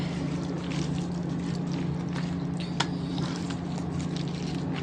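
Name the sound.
stirring dried chillies and mustard seeds in a pan for pickle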